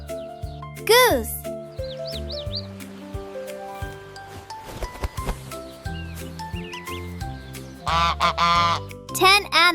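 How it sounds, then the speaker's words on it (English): A goose honks in loud, close bursts over a cheerful children's music backing, with a few high neigh-like calls mixed in between. "Goose."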